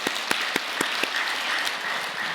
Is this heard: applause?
yes